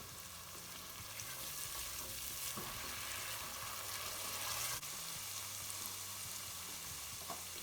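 Spices for a chicken curry frying in a non-stick pan, a steady soft sizzle with faint scraping from stirring, close and continuous, without any voices.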